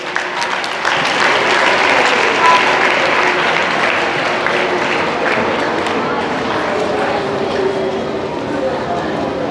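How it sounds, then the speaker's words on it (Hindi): A class claps loudly and steadily throughout, a dense continuous wash of many hands applauding with no pauses, filling the room. "इसके लिए जोरदार ताली बजाओ भाई"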